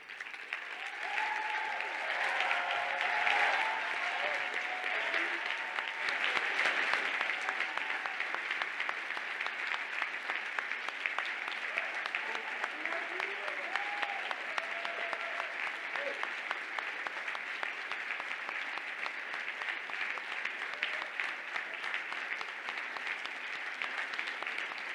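A graduation audience at the MIM class of 2026 commencement applauds steadily for Dean's List graduates, a dense, sustained wash of clapping hands that holds at an even level throughout, with a few faint voices mixed in beneath.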